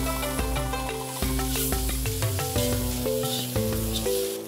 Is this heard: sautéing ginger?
yes